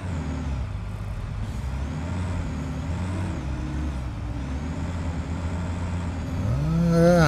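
Truck in the video game Satisfactory driving uphill, a steady low engine drone that swells louder toward the end with a rising whine, with no talk over it.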